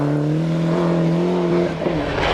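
The Eurocables rally car at the 1998 Toshiba Rally drives flat out through a forest stage. Its engine drones loud and close with a steady high pitch that holds for the whole stretch, with no voices.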